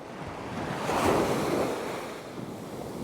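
Surf washes onto Nai Thon Beach in Phuket, Thailand, a steady broad roar of waves that swells to a peak midway and eases off, mixed with wind buffeting the microphone and no voices.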